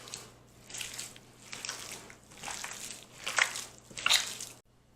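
Keto meatloaf mixture is squished and kneaded by hand in a bowl, a run of wet squelching pulses close up, ending abruptly.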